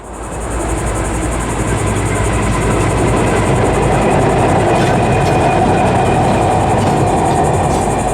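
A Florida East Coast Railway EMD locomotive, number 503, hurtles across the Tomoka River bridge with a loud, continuous roar and rumble of engine and rolling wheels, sustained close by with no talking.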